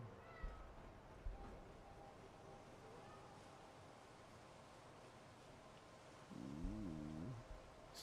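A cat meows in the video game Fallout 4 with the Sim Settlements 2 mod, a single wavering meow near the end over a steady ambient game background hum, faint and somewhat distant.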